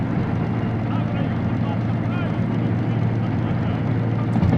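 A diesel locomotive engine revs up under throttle in the train simulator Derail Valley, a steady low droning rumble that holds evenly and swells slightly near the end, with someone talking over it.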